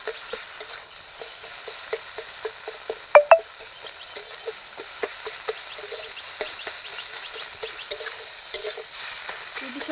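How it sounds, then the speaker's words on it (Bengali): Eggs fry bhujiya-style in a pan, scrambled into small pieces. A steady close sizzle runs throughout, with frequent light scraping and stirring taps of a utensil and one sharper clink of metal. "ডিমগুলো ভুজিয়ার মতো ভেজে নেব"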